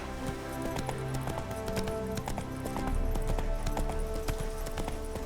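Geralt's horse Roach trotting in the video game The Witcher 3, a steady rhythmic clip-clop of hooves heard close and continuous under game music, with no talking.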